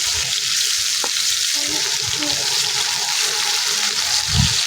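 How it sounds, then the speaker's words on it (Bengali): Black gram lentil dumplings (bori) frying in hot oil give a steady broad sizzle throughout, with a few faint clinks and soft handling noises at close range. "10টা বড়ি সুন্দর করে তেলে ভাজে নেব। দেখতে পাচ্ছেন আমি বড়ি দিয়ে দিয়েছি তেলে।"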